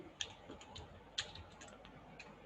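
A few light keystrokes on a computer keyboard in a Linux lab, sparse isolated clicks spread across a quiet room with faint background hum.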